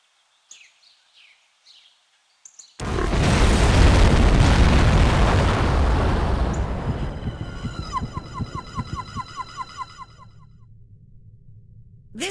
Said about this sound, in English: there was an explosion of unknown origin in the town of Shilling, England